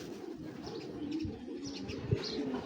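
A male Giribaj racer pigeon coos in low, continuous murmuring tones, close by and fairly steady, with a few soft chirps above.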